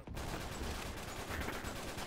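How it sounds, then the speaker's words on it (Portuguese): Gunfire from an online multiplayer shooter comes as a faint, dense crackle spread over a noisy, muffled game ambience with no clear single report. "Vai um tiro."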